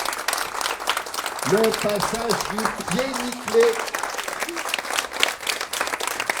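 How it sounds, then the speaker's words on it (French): Audience applause at an inauguration ceremony for a film screening, a broad steady patter of many clapping hands carrying on under a voice speaking French over it. "Applaudissements, s'il vous plaît."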